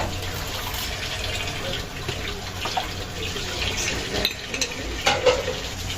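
A cup of milk pours steadily into a pan already holding butter and flour for a mushroom sauce to go with chicken piccata, a continuous close liquid rush with a few light clinks near the end.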